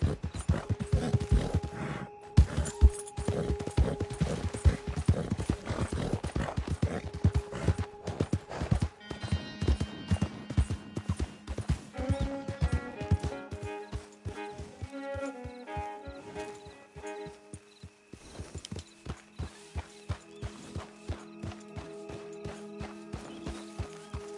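Horse hooves clip-clopping in Red Dead Redemption 2, a steady close rhythm of hoof strikes on the ground that carries on alone, shifting pace midway with a faint game musical tone underneath.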